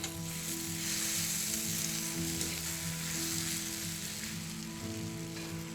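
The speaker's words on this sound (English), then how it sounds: "I got a spider on the fire, put a little oil on the spider, a little bit of shallot, and blanch some of the sorrel." Shallot and sorrel frying in a little oil in a spider pan over an open fire, a steady close sizzle with a low hum running under it throughout.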